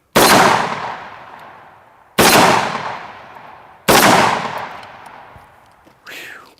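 Three loud shotgun blasts, each a sharp crack with a long decaying tail, spaced about two seconds apart, followed by a brief metallic clang of a popper target being hit.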